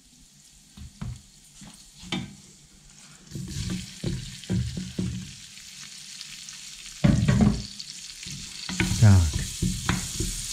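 Onion goes into rendered bacon fat with caraway and sizzles close by while it is stirred and scraped, with a brief word spoken.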